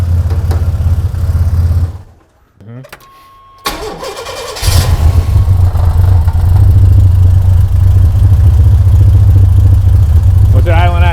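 A turbocharged Chevrolet S10 engine cranks and catches, then settles into a loud, steady low idle, with brief voices near the start.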